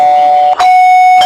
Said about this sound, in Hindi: तो घंटी बज रही कब से?